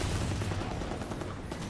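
Gunfire in a Warzone match rattles in a continuous, dense burst of rapid shots, loud and close, with no talk over it.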